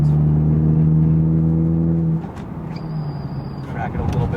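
A modified 2014 Volkswagen GTI with a DSG gearbox revs up close with a loud, steady tonal engine note that drops away after about two seconds, leaving quieter road noise and a brief high whine.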